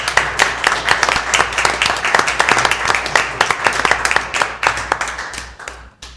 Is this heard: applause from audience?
yes